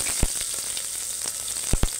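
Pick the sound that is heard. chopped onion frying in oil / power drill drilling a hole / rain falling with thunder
chopped onion frying in oil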